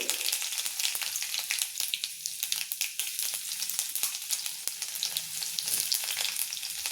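Garlic fries in hot oil with mustard seeds and cumin, a dense, close crackle of rapid pops and spits over a steady sizzle, with no talk.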